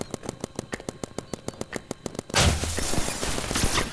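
Paintball guns firing in a Roblox paintball match: a rapid, evenly spaced string of sharp shots, then a dense burst of overlapping fire and clatter.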